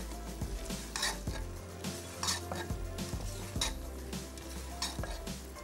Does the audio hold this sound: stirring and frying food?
yes